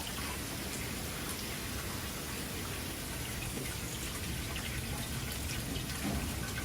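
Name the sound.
boiling water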